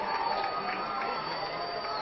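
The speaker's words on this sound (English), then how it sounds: "Lots of oohs and ahs from the crowd as both teams getting after it defensively" A volleyball crowd at a national championship match oohs and ahhs through a long defensive rally, a steady broad murmur of many voices swelling slightly, heard from a distance in an indoor arena.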